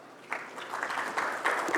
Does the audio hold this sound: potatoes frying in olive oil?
no